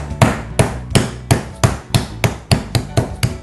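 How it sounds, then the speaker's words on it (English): A hammer pounds raw chicken flat for tacos, a steady series of about ten sharp, close thuds at an even rhythm with no talking. "don't want to get splattered with little bits of chicken when we start hammering this"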